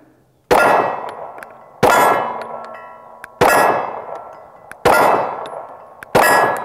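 Arex Delta L Gen 2 pistol firing at steel targets, five sharp shots spaced about 1.3 seconds apart, each followed by a ringing metallic clang that decays before the next, close and loud.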